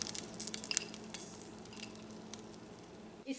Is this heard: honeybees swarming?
no